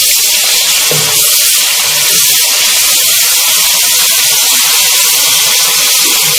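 Loud, steady hiss of a tablespoon of garlic ginger paste frying with onions in hot oil, a continuous close sizzle with no talk.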